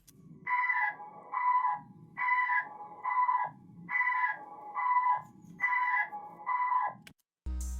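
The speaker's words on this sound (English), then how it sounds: "I added these keys from Serum, which only plays in the intro, and it sounds like this" Raw Serum synth keys with no effects, playing a steady repeating pattern of eight evenly spaced chords, each note bright and nasal with a low pulse between, ending in a brief cut and a low thump.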